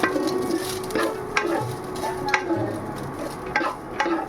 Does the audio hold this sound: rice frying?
yes